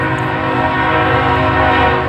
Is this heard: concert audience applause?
no